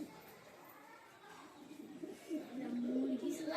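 Soft pigeon coos rise in the background, low throaty calls repeating near the end, with faint voices and room noise around them.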